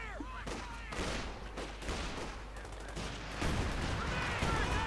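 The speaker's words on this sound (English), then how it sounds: "Grenades going off though." Dense battlefield din from Company of Heroes 2: overlapping gunfire and grenade blasts in an infantry fight, a steady loud barrage with bursts swelling near the end.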